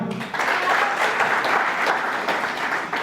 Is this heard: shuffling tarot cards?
no